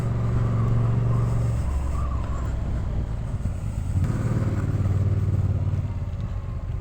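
A motorcycle engine running steadily while being ridden slowly, a loud continuous low rumble with slight rises and falls in revs, close to the microphone.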